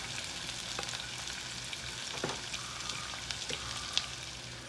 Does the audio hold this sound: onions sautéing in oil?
yes